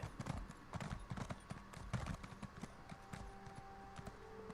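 Rhythmic clip-clop of horse hooves in The Elder Scrolls Online, steady close trotting footfalls with faint game ambience and no speech.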